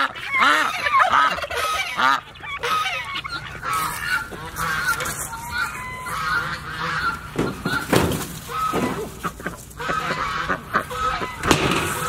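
A flock of jumbo Pekin ducks quacking and honking loudly and continuously, overlapping calls close by with some scuffling and flapping.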